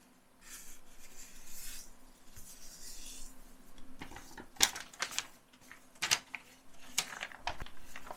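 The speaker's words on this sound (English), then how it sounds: "we're going to fold inward towards the center fold, like that." Sheet of paper being folded and creased into a Pocketmod booklet, with soft rustling followed by several sharp crisp crease snaps and light handling, close by with no talk.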